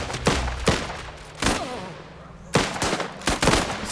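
Gunfire in the video game Last Train Home, several sharp loud shots spaced irregularly, some in quick pairs, with a faint echoing tail between them and no speech.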